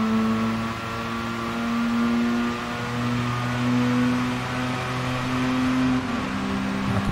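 A Mazda RX7 race car in Gran Turismo Sport at Bluemoon Speedway holds a sustained, high-pitched rotary engine drone at speed, pitch shifting slightly as it runs flat out, steady and loud with no talking.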